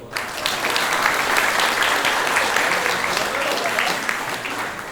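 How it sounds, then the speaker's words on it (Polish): A crowd applauds steadily, a dense, even wash of clapping that holds for several seconds before easing slightly at the end. "tu także należą się brawa"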